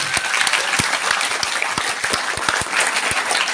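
An audience applauds a best platoon at a military cadet outreach event, dense sustained clapping from many hands, fairly loud and continuous throughout with no talk over it.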